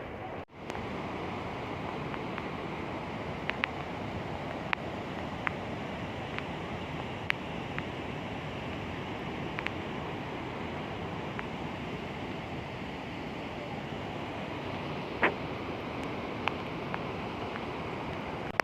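Water rushes steadily from a waterfall in the rain, a dense continuous roar that stays even throughout, with a few faint clicks on top and no clear voices.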